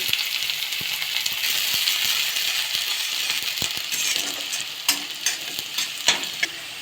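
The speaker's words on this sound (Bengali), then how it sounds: "তো রসুনটা আমি ভেজে নিয়েছি একদম গোল্ডেন কালার করে" Chopped garlic frying in hot oil, a continuous close crackling sizzle with scattered clicks and taps of a spoon against the pan, growing a little louder near the end.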